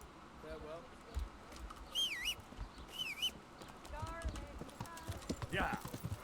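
Horse hooves clip-clop in the medieval game Kingdom Come: Deliverance, a steady moderate rhythm under a voice, with bird chirps and whistles scattered through the scene.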